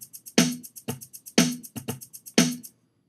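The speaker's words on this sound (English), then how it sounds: "It's a rhythm egg, one of those. It's like a little shaker." A shaker-style rhythm egg is programmed on every 16th note in a Redrum drum machine. Quick, crisp shakes tick evenly, with heavier accented hits at irregular spots, and the pattern stops cleanly before the end.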